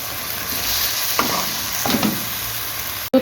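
Spice paste for chicken gulai sizzling steadily in hot oil in a pan, with a few stirring scrapes and a sharp knock near the end.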